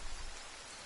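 Steady rain pours in the survival game The Forest, a dense, even hiss of drops on surfaces with no pauses, fairly faint and without any voices.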